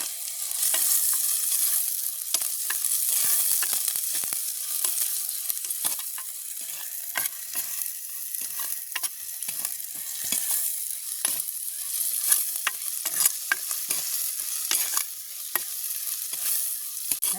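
Onions, fenugreek and fennel are sautéed and stirred in a village cooking pot, with frequent sharp scraping strokes over a steady sizzle, close and without speech.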